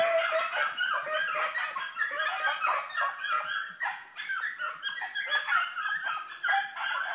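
Young dogs under two years old bay and yelp in an excited chorus while chasing rabbits outdoors, overlapping barks continuous and moderately distant.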